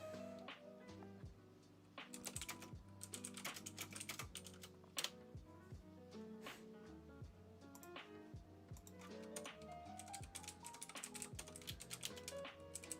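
Rapid typing on a computer keyboard during coding clatters in irregular bursts of crisp key clicks with short pauses, close and fairly quiet against soft background hum.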